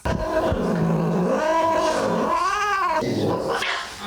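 A wounded cat with bullets lodged in its body, recovering under veterinary care, growls and caterwauls in one loud, continuous, rising and falling snarl lasting about four seconds, with no other sounds.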